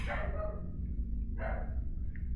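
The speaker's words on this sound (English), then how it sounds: "The dog is barking so loud." A dog barks a few times at a distance, with short yelping bursts over a steady low rumble of background noise.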